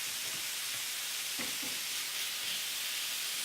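Bacon and turkey spread across a hot pan sizzle and spit in a continuous bright hiss, with a couple of soft scraping stirs partway through.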